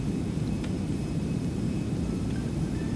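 A Lion Air Airbus A330-900neo in a GTA 5 mod gives a steady, faint, broadband engine rumble and roar, continuous and distant-sounding, with no talk over it.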